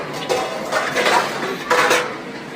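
Metal plates clink and clatter as they are lifted from a stack at the Chamundeshwari temple in Gowdagere, Channapatna, giving a few bright, close rattling bursts with no talk.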